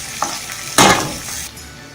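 Onions sautéing in a pan for baingan masala give a soft, steady sizzle, with a louder burst of frying and stirring about a third of the way in that slowly settles back down.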